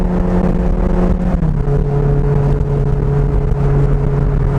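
A Ferrari Challenge Stradale engine climbs steadily in pitch through the gears. The snarl is loud and continuous, its tone dropping briefly at an upshift before it rises again, with no voices.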